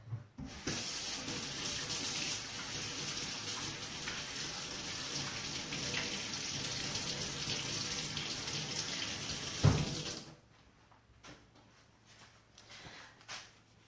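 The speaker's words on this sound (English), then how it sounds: "I'm going to wash my hands" A tap runs steadily for hands being washed, a close continuous gush lasting about nine seconds before it shuts off, leaving a quiet room with a few small knocks.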